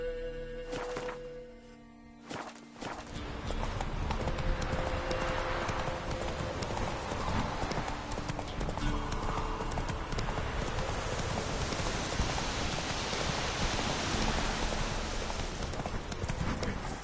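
Rapid, continuous hoofbeats from Roach galloping in The Witcher 3 on the Skellige islands. The clop starts after a brief quieter moment and holds loud and close for the rest of the stretch.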